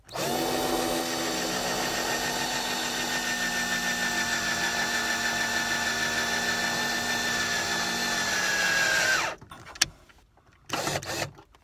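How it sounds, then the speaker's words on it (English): A cordless drill with a draining battery drives drywall screws, whining steadily for several seconds at close range, its pitch sagging slightly, then cuts off, followed by brief clicks and a short burst. "I'm running out of power too, I can see in this drill"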